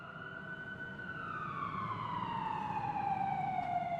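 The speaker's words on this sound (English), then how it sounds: "The ambulance is coming." An ambulance siren wails steadily as the vehicle approaches, growing gradually louder over a constant low road rumble, with no talking.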